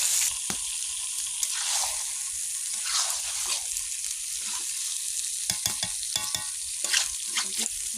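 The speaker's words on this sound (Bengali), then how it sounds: "এবারে মাংসটা দিয়ে দিব মশলাটা কষানো হয়ে গেছে এটাকে বেশ করে কষাবো" Meat frying in a pan with cooked-down spices gives a close, continuous sizzle, broken by repeated scraping and stirring strokes of a spatula throughout.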